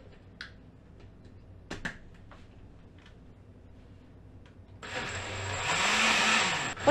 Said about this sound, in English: What I like about this blender is that it's going to do the cycling for me.